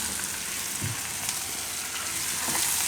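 Curd is stirred into bottle gourd cooking in a pan, a steady sizzling hiss with a couple of soft thuds as it is added and mixed, close and alone with no talk.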